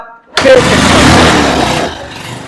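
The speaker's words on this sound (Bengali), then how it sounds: "এই বাইকটা দেখাই দিয়েছি এটার সাউন্ড আই দেখাই দিই পালসারের একটা বাইক এটার সাউন্ডটা" A first-model Bajaj Pulsar motorcycle, about ten years old, starts with a sudden burst and settles into a loud, steady, close engine rumble that eases off toward the end.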